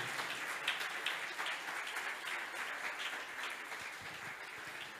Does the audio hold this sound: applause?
yes